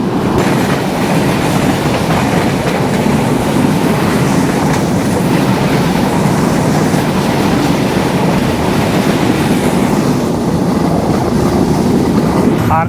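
Chilahati Express passenger train running on the rails near Abdulpur Junction in Bangladesh, a loud, steady rumble of wheels and carriages with continuous rattling clatter throughout and no voices.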